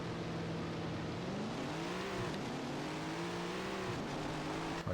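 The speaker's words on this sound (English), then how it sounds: "I'm going to let these 3 cars go by." Several race cars roar past in Tony Stewart's All American Racing video game, a steady loud engine drone with pitch sweeping up and down as the cars go by, continuous throughout.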